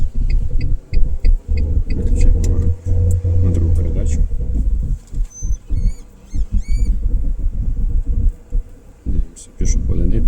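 A driving-school car on a test route in Bila Tserkva pulls away in first gear: a low engine rumble rises and falls under people talking, with intermittent high chirping and beeping from the car.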